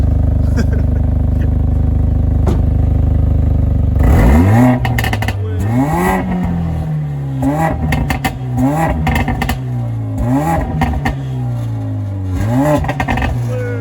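A Mercedes 4MATIC car engine idles loudly, then its exhaust revs again and again in rising and falling bursts, with people talking over it.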